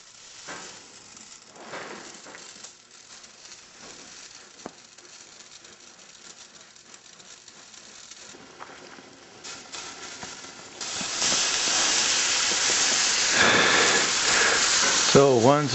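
Pinto beans boiling in a pot on a stove, faint patter and hiss at first that swells into a loud, steady bubbling and steaming roar in the second half.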